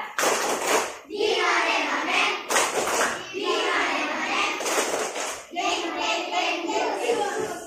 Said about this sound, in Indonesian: Oke, tepuk semangat 3.